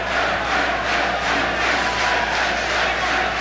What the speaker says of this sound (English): they're really cheering him on, the Irish fans, no question about that